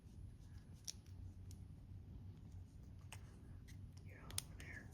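Small sharp snips trim a plastic part for a 1963 Lincoln Continental 1/43 slot car model, a few quiet scattered clicks over a low room hum with soft breathy noise.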